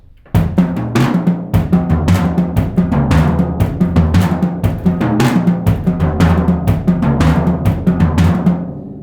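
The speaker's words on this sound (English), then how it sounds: "See how I'm changing the pitch of the drum and also getting that effect." Drumming moves down the toms with buzz strokes, the drumheads bent in pitch as they ring; dense, continuous rolls with frequent accented hits play loud and close for several seconds, with no talking.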